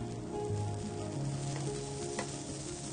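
Garlic, leek and celery sizzle steadily as they sauté in a hot pan for an Omani thareed, a continuous close frying hiss with light stirring scrapes and no voices.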